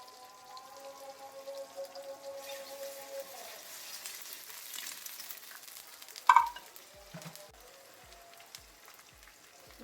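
Ginger frying in a pan for chickpea curry, sounding as a faint continuous sizzle that fades midway, followed by a sharp clatter and a few soft scattered taps; no talking.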